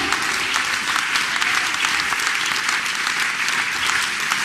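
A church congregation claps loudly and continuously, a dense, even wash of many hands close around, with no talking.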